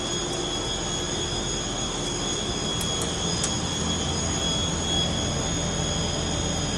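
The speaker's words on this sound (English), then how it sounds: "Oh, that's the compressor also." An air compressor runs steadily in a Porsche repair and parts manufacturing facility, a constant broadband mechanical roar with high whining tones, continuous and fairly loud with no speech.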